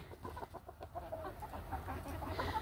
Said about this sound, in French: ça c'est le deuxième coq